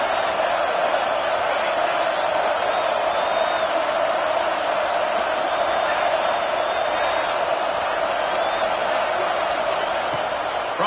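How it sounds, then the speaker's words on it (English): At an Ohio State Buckeyes versus Michigan Wolverines football game, the stadium crowd roars on third down, a dense, steady wall of cheering that holds for the whole stretch, with a broadcast voice faintly beneath. "The Buckeye crowd alive on third down."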